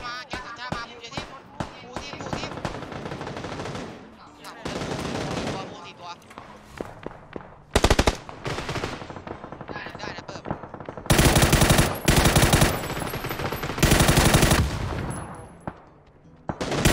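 Machine gun fire rattles in the video game PUBG, with rapid loud bursts coming in several volleys, some longer and some clipped short, amid other in-game noise.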